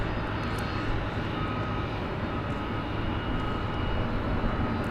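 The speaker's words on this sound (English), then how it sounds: "the sound of a roaring jet never gets old." A jet airplane roars at DFW Airport at night, a loud, steady broadband rumble and hiss that holds evenly throughout, close and unbroken, with no voices.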